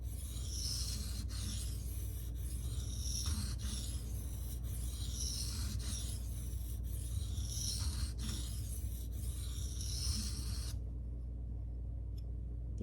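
Steady rasping strokes of a CPM 1V steel knife being free-hand sharpened on a stone, a continuous scraping rhythm with repeated passes, close and moderately loud, ending abruptly near the end.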